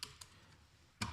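Faint computer keyboard typing, a few sharp clicks spaced apart against a quiet background.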